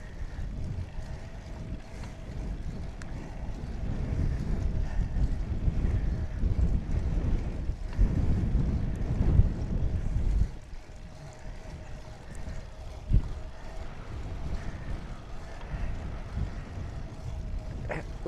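Headwind buffets the microphone on a tandem bicycle ride on a sunny day in Portugal, a constant low, rumbling wind roar that swells and eases without any speech.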